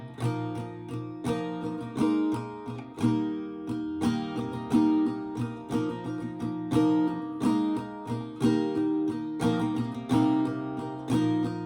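Acoustic guitar plays the whole first verse of a song in steady strummed chord patterns with accented strokes and ringing chords, close and unaccompanied with no singing or talk.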